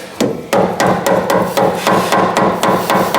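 Sharp, repeated hammer taps strike a steering damper bolt, about ten evenly spaced metallic blows in quick rhythm, close and loud with no talking.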